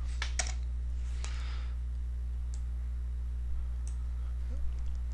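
Computer keyboard keys tapped a few times on a Windows PC, a short cluster of clicks at the start and then sparse single taps over a steady low electrical hum.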